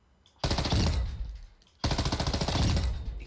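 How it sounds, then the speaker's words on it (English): M13 rifle fire in a Warzone 2 firing range within the video game: two loud, rapid full-auto bursts, each lasting over a second, separated by a brief pause, with no talking. "this gun fires quick and straight"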